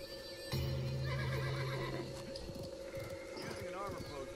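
Horse neighing in the video game Realm Royale, a loud whinny near the start over busy game sounds, clip-clop hooves and ongoing speech.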